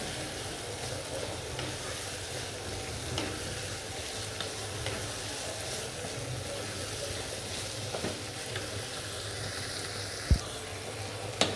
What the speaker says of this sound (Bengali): এটা আমি ভালো করে কষাবো।